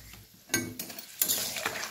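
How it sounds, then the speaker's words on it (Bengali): A spoon stirs a mixed vegetable curry with red lentil fritters in a pan: three close scraping, clinking strokes over a soft simmering sizzle. "ভালোভাবে নেড়ে দেবো।"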